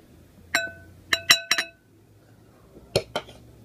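A utensil clinks against a bowl while dry brownie ingredients are mixed, giving a few sharp metallic taps grouped in quick bursts with short pauses between them, close and fairly quiet, with no talking.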